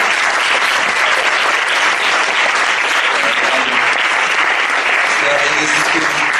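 A conference audience claps together for a presenter in loud, dense, continuous applause that stays steady throughout, with faint voices underneath toward the end.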